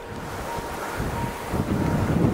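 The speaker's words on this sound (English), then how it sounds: "Just see how windy it is today." Strong wind buffets the microphone in open farmland along a river in Cumbria, a steady loud rushing roar that swells and grows gustier toward the end, with no voices.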